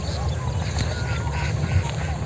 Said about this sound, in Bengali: নদীর মধ্যে হাঁসের পাল,